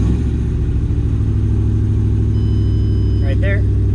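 Supercharged Ford Mustang engine idling steadily with a low, loud rumble and rhythmic pulsing, a voice speaking briefly over it near the end.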